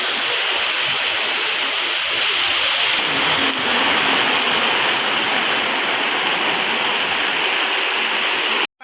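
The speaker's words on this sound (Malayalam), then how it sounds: "നല്ല മഴ കേട്ടോ." Heavy rain pours down steadily in a dense, continuous hiss that stays loud and unbroken from start to finish, with no voices.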